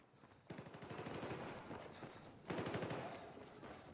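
Automatic gunfire in Battlefield 4, two loud sustained bursts of rapid rattling shots, the second starting a couple of seconds after the first, close and continuous with no talk over it.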